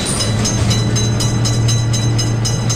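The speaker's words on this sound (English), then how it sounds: "Attention, train is coming." A train rumbles past in a video game at an Indian railroad crossing, a steady loud low roar with regular clacking bursts from the wagons throughout, no voices over it.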